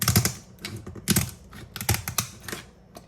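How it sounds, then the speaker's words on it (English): Kitchen shears snip up the top of a California spiny lobster tail in a quick series of crisp, close cuts and crunches of shell, irregular in rhythm, with no talk. "I'm going to cut up along the top"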